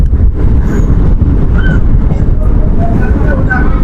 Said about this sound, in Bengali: সেই সাথে ট্রেন ছেড়ে দিল পানাগড় রেলওয়ে স্টেশনের 3 নম্বর প্ল্যাটফর্ম থেকে